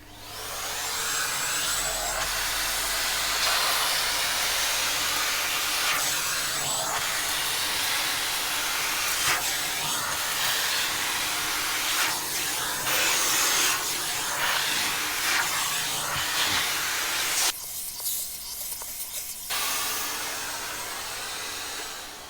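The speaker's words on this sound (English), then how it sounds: "we're going to hit it up with the vacuum cleaner, as you should always" A vacuum cleaner runs continuously over car floor mats, a loud sustained hiss and whine with small shifts as the nozzle moves, briefly dipping near the end before resuming.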